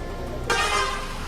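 A vehicle horn sounds in a busy street beside a clothing market, starting midway as a single sustained honk over steady traffic background noise.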